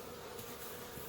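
Honeybees drone steadily inside a crowded beehive super during a hive teardown, a dense, continuous buzz that stays quiet and even throughout without any voices.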